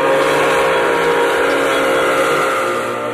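A steam locomotive whistle sounds in one loud, sustained blast that holds steady for about three seconds, with no voices alongside it.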